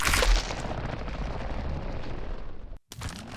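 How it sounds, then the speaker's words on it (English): Creaking mob in the pale garden biome of Minecraft, a game sound with a dense, continuous rumbling texture that runs steadily for a few seconds, breaks off in a brief silence, then resumes. "Now the creaking is another hostile mob that's not affected by daylight."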